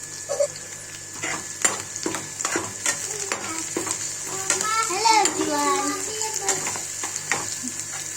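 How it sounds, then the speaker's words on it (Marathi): Chopped onion sizzles in a pan for poha, with soft stirring scrapes over a steady frying hiss while a child and an adult talk over the cooking. "आपण मस्त असं लाल रंग येऊपर्यंत आपण कांदा परतून घेणार आहोत"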